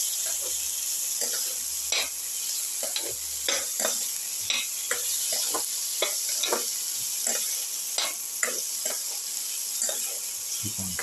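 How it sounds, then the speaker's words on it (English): Tomato pieces sautéing in a pan for a ginger shallot tomato dip, with steady sizzling broken by repeated scraping strokes of a spoon or spatula, close and clear, with no talking. "Saute the tomato pieces."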